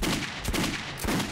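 Gunfire in the first-person shooter Metro 2033 Redux, loud dense blasts repeating roughly every half second through the whole short stretch, with no talking.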